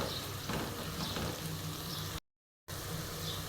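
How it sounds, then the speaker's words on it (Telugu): Onions and green chilies with salt frying in a pan, heard as a dense, steady sizzle close by, with a short dropout partway through. "వీటన్నిటిని చక్కగా ఉల్లిపాయకు పచ్చిమిర్చికి పట్టేటట్లు"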